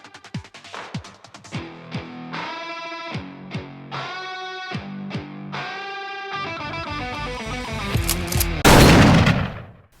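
Suppressed Ruger American Gen 2 .308 rifle firing outdoors, a series of sharp muffled shots spaced a second or so apart, each trailing a brief echo, ending with a louder blast, no talk.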